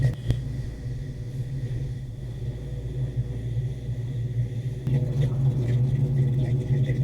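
A Fox Body Mustang with a FlowMaster muffler idles from four yards away, giving a deep, steady exhaust rumble that swells slightly partway through.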